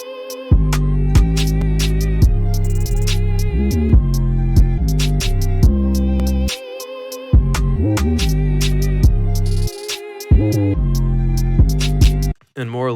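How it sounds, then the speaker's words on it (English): A drill beat built in FL Studio pounds along with a deep, gliding 808 bass pattern and punchy kicks under crisp, rapid hi-hats and a melodic layer, loud and steady with brief dropouts and no talking. "So in context, it sounds like this with the second 808 pattern."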